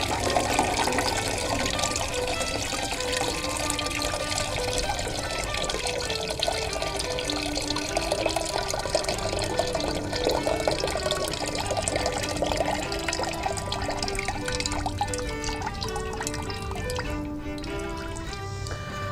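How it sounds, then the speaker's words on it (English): Vinegar being poured off strained pickling cucumbers, a steady liquid trickle and splash running continuously for nearly twenty seconds, close by, with no talking. "So we're going to pour off that vinegar now"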